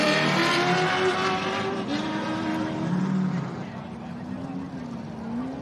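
A V8 race car engine at the Gundy 500 drones and shifts pitch as it passes, with a commentator talking over it before the engine note fades slightly.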